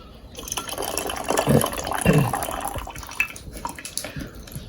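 Tap water runs and splashes steadily for a few seconds, rinsing sticky rice tea leaves, with an irregular gushing, dripping texture and no talking.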